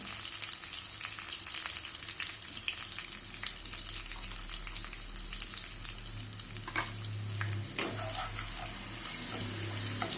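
Turmeric stirred into hot oil while frying chivda for Diwali, a steady soft sizzle and bubbling throughout with occasional clinks and scrapes of a spoon against the pan, close by and without talk.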